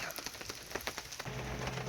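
Raindrops patter irregularly on a surface close by at a campsite in Occoneechee State Park, quiet scattered taps followed by a faint steady hum toward the end.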